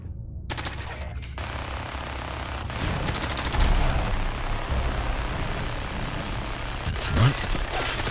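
Gunfire in the video game Fallout 4: rapid automatic bursts and sharp shots over a dense, noisy mechanical rumble, with a few louder impacts spread across the clip.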